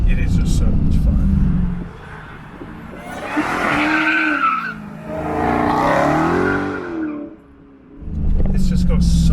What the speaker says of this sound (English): You just don't understand how loud this thing is when you plant it.